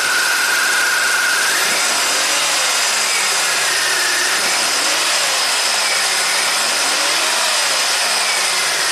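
A 1990 Buick Regal V6 with severe low power is held at raised revs, a loud, steady, close engine drone with slow rising and falling swells and a faint high whine.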